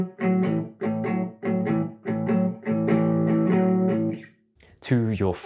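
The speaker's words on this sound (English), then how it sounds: "The first major pedal is the overdrive and distortion." A guitar runs through the overdrive and distortion effect of a Boss ME-50 multi-effects pedal, with repeated distorted chords in a rhythmic pattern, a held note, and a brief bending phrase at the end.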